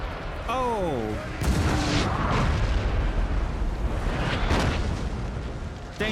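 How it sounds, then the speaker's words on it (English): Cannon artillery fire in Napoleon: Total War, heavy booming blasts rolling into sustained rumble and crackling, loud and close, with a brief whistling tone at the start. "Danger close fire support from the cannon"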